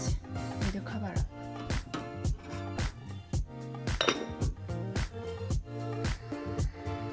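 Shrimp are stirred into Korean steamed egg in a pot, and a utensil repeatedly scrapes and clinks against the pot in a brisk, uneven rhythm, close and fairly loud.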